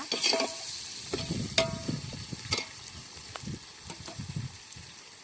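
Ingredients stirred and sautéed in a pan for quail dum biryani, a close sizzle broken by repeated spoon scrapes and clinks against the pan, no voices.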